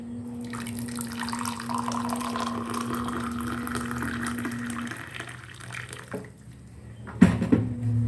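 Hot water streams steadily into a cup of tea leaves with a rising, filling tone, then stops; a few small clinks and a sharp knock of the cup follow close by.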